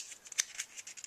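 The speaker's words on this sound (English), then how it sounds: "Just snippity snip that. My trusty little scissors here." Small scissors snip at a mail package holding silver coins, giving a few quick, light, crisp cuts close by over about a second, with one sharper snip standing out.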